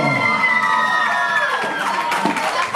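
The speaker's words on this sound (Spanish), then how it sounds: "El aplauso, que se escuche bueno" At a quinceañera party, guests cheer loudly for the chambelanes, with shouts and whistling voices over scattered clapping and a continuous, close crowd roar that stays strong from start to finish.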